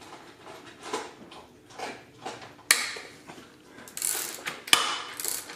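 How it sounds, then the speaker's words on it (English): A hand ratchet with a socket works a nut on a caster bearing, giving repeated clicking bursts of uneven length, close and fairly loud, with sharper metallic snaps partway through. "use the appropriately sized ratchet with a socket"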